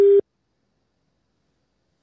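Single short busy-signal beep on a failed telephone call, a loud steady tone lasting about a fifth of a second, followed by silence.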